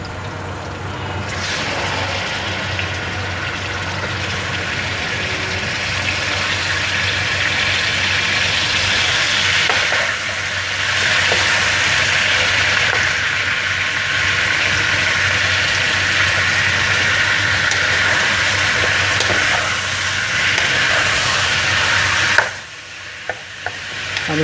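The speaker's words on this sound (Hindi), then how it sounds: "तो बस चिकन एकदम फ्राई हो चुका है।" Chicken frying in a pan for curry, a steady, loud sizzle with stirring scrapes running continuously, briefly dipping near the end.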